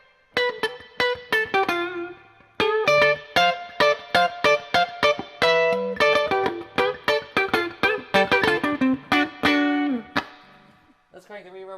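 An electric guitar played through a Hughes & Kettner TubeMeister 36-watt tube amp with springy reverb turned up: a quick run of clean, bright picked notes and chords, each ringing into a lingering spring-reverb tail that fades at the end.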